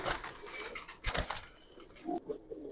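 Pigeons flapping their wings close by, including a young homing pigeon. Bursts of wingbeats come in short irregular flurries, with a louder flutter near the middle, and there are faint coos.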